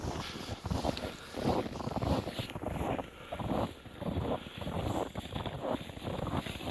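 Snowstorm wind roars and buffets against the microphone on a snowmobile trail, a loud continuous rushing with gusty surges and no clear voices.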